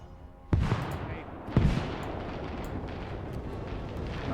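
Tank ammunition cooking off in a WWII-style battle game, two heavy booming blasts a second apart followed by a sustained roaring rumble of fire and crackling.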